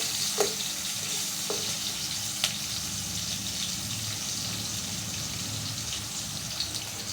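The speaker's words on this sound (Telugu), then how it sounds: "ఇలా ఆనియన్స్, పచ్చిమిర్చి బ్రౌన్ కలర్ వచ్చేంత వరకు ఫ్రై చేసుకోవాలండి." Onions and green chillies frying in a pan for ragi upma, a steady close sizzle and hiss with a few faint scrapes of a spoon, continuous and without talk.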